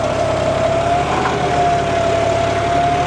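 A 4x4 tractor engine pulling a cultivator runs at steady rpm, a loud continuous drone with a faint whine and no voices.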